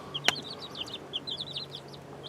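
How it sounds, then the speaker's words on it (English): Small flock of eight young chicken pullets on a little farm, soft repeated chirps and clucks in quick, scattered bursts, close by, with a sharp brief knock early on. "I got 8 little pullets, and that black one's a straight run."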